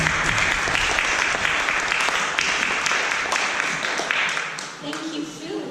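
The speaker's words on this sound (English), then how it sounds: "can we give him a big round of applause" A church audience applauds a visiting speaker from the Gideons International, a full, continuous round of clapping that thins and fades near the end as a voice begins.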